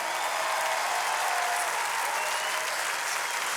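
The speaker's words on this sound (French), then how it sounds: "On peut l'applaudir très chaleureusement" A TV studio audience at a music quiz show gives loud, sustained applause for a singer, a thick, unbroken roar of many hands clapping with no voices on top.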